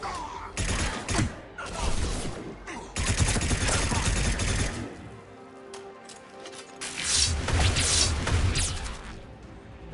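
Rapid bursts of automatic gunfire in the video game Mass Effect 3, with dense stuttering volleys, a quieter gap with mechanical clatter, and another loud volley near the end, heard from a live demo at PAX 2011.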